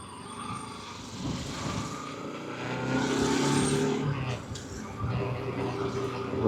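Road traffic surrounds a Bajaj Pulsar RS200 motorcycle as it rides along a busy road, with engines droning and swelling as vehicles pass close by, a steady, moderately loud rumble and wind.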